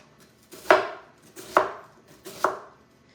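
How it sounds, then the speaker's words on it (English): Close, crisp knife strokes slice food into thin, skinny pieces on a cutting board, three distinct chops spaced about a second apart, each with a sharp attack and a short decay. "I'm just going to slice this into little skinny pieces"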